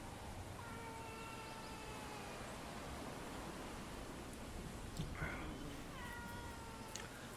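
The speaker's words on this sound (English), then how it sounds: "Don't know if you guys can hear the cat." A cat meows several times, faint drawn-out cries rising through a steady hiss of background noise during a Bellwright game session, with no one talking.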